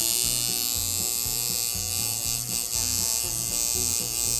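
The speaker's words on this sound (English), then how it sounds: "for a plastic machine, that sounds pretty darn good" A plastic-bodied machine running steadily with a constant buzzing hum and a fast rhythmic pounding underneath, close and unbroken throughout.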